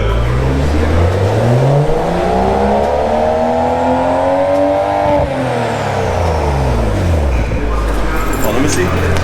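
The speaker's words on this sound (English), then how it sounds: "you can go ahead and rev it up" A BMW 435i with a Vibrant resonator exhaust revs close by in one long rise and fall, its deep engine note climbing for about five seconds, then easing back down, with voices over it.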